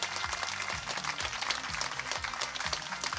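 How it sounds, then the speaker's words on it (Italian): Audience applause at a presentation event in Golfo Aranci, honouring local authorities: a steady, dense wash of clapping sustained throughout, with a repeating low rhythmic pattern beneath it. "Fare un applauso a questa autorità."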